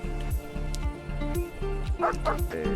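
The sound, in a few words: dog barking in video game Mr. Prepper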